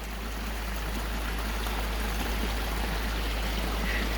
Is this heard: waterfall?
yes